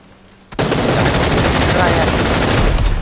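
Gunfire in the battle royale game PUBG: after a brief quiet moment, a loud burst of rapid automatic shots erupts and keeps rattling on without a break, close and dense.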